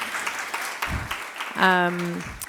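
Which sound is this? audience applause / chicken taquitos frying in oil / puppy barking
audience applause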